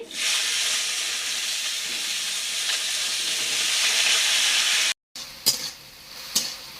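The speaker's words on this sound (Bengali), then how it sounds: "আগের জন্য যে সবজিগুলো কেটে রেখেছিলাম সেই সবজিগুলো এবার তেলের উপরে তুলে দিচ্ছি" Chopped vegetables go into hot oil with dried chilli and panch phoron in a wok, raising a loud, steady sizzle for about five seconds. It cuts off abruptly, then a quieter crackle continues with a few sharp utensil knocks.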